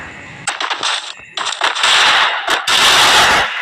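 Rapid bursts of automatic gunfire in the shooter game Free Fire, loud sharp cracks in quick strings with short gaps between volleys, no voices over them.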